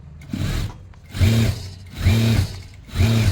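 Sewing machine stitching elastic onto stretched pant fabric, running in three steady motorized bursts of about half a second each with a humming, rhythmic needle chatter and brief pauses between.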